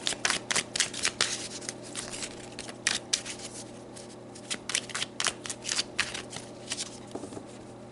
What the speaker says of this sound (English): I feel like they want me to pull you guys some more cards